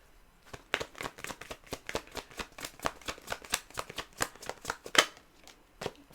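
Tarot cards being shuffled: a steady run of quick, crisp riffling flicks, close and fairly quiet, carrying on for several seconds without any speech.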